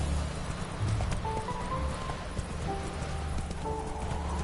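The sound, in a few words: horse Roach galloping, video game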